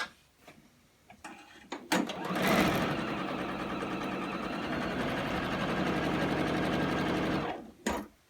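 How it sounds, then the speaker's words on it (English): A sewing machine joins quilt patches into a four-patch block, starting after a few faint clicks and then running in one long steady close-up burst of stitching before stopping. "we're just going to sew that together for a 4-patch"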